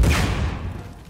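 A grenade goes off during a video game shootout in Uncharted 4, a loud booming burst at the start that rumbles and fades over about a second.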